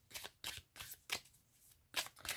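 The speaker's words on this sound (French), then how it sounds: "On va tirer une carte parce que je l'ai fait pour le tirage." Tarot cards being handled and drawn from the deck, with several short papery swishes and snaps in close succession, quiet and close with no talking.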